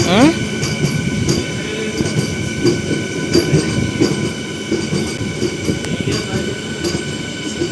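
A MEMU commuter train pulls away from Manchili railway station, its rumbling wheels and rail clatter steady and close, with a brief rising squeal near the start and voices talking over the running noise.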